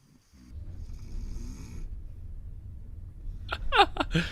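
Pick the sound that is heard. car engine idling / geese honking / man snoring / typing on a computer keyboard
man snoring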